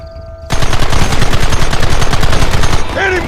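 A sustained, evenly spaced volley of loud close gunshots rattles in Red Dead Redemption, starting abruptly after a quiet moment and continuing in a steady rapid rhythm before tapering at the end.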